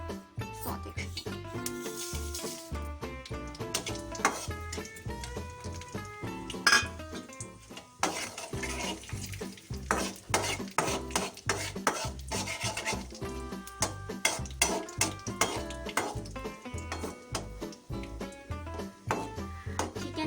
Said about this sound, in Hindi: इसको हम इसमें डाल के सौते करेंगे।